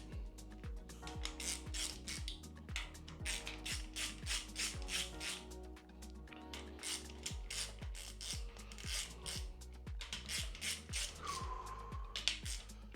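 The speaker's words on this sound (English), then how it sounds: "Go get a torque wrench and torque them up." A torque wrench tightens cam bolts on a 3.4-litre Supra engine, giving a steady run of close, rhythmic ratcheting clicks with metallic rasping throughout and no voices.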